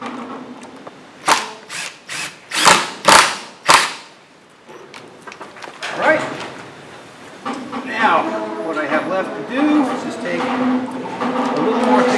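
A power drill drives screws into new wooden planking on a boat, giving several short, sharp whirring bursts close by, followed by quieter handling noises and a person talking.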